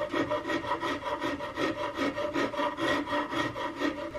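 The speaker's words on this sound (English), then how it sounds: "I want to use this rasp to quickly balance this out and blend it together" A half-round rasp shapes the wooden nose of an Investarms Gemmer Hawken rifle kit, giving close, steady back-and-forth scraping strokes in an even repeating rhythm of roughly three strokes a second.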